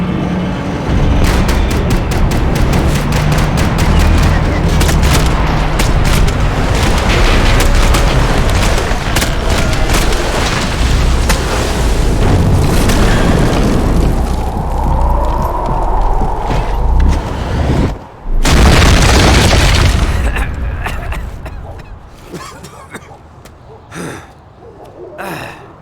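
Gunfire from Max Payne 3: rapid shots and loud booms in dense bursts, with a sharp cutoff partway through, then scattered single shots. Voices shout and gasp over the firing.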